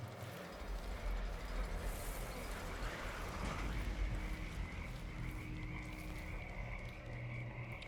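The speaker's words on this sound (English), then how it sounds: "Plenty of frogs around here, eh?" Frogs croaking in the video game Dishonored 2, a dense, continuous chorus of many frogs at steady volume over a rumbling ambient background, with no talking.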